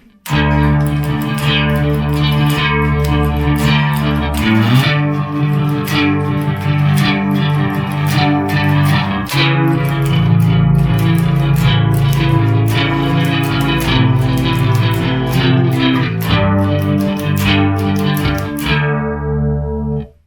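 Distorted electric bass strums chords through effects, thick and sustained with a chorus-like shimmer, played steadily for about twenty seconds before cutting off.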